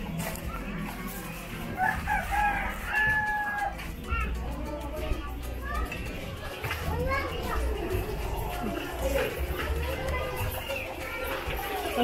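Chickens clucking and a rooster crowing at a poultry yard in Tondo, Manila, Philippines, heard amid children playing and people talking nearby.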